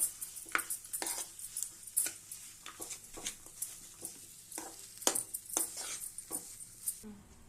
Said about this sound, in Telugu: ఇప్పుడు బాగా ఫ్రై చేసుకోండి.